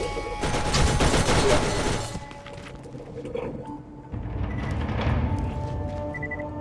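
Rapid gunfire against turrets in the Borderlands video game, a dense burst of shots for about two seconds, then scattered thumps and a second rolling volley, loud and close.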